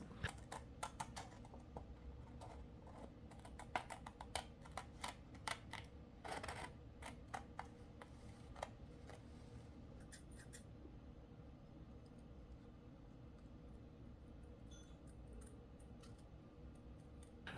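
Pen-shaped scissors cutting: faint, quick snips and scratchy ticks come in irregular bursts, close up and quiet, then thin out toward the end.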